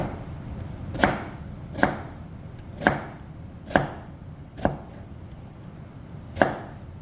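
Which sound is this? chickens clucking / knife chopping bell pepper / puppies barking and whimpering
knife chopping bell pepper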